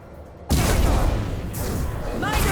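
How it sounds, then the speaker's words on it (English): Rifle fire in Mass Effect Legendary Edition, a dense burst of rapid shots that starts abruptly and continues loud and close, with a brief lull before more firing. "This is like my favorite gun in the game because of how you can rapid fire it"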